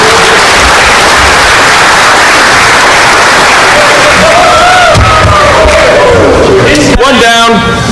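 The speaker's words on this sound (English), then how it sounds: "Let's give him a round of applause" A crowd at the DEF CON 7 hacking conference breaks into loud, dense applause and cheering that fills the room, with voices and a few shouts rising over it toward the end.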